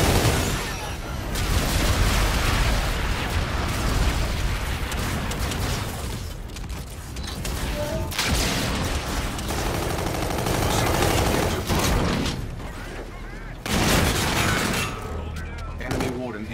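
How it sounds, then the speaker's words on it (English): In Call of Duty: Infinite Warfare multiplayer, dense gunfire and booming explosions from an enemy bombardment pile up into a loud, chaotic roar with repeated heavy thuds. Voices talk over the din. "Enemy bombardment."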